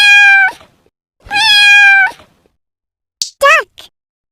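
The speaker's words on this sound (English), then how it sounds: "Cat." A cat meows three times, loud and close: two long drawn-out calls followed by a shorter, rising one after a pause.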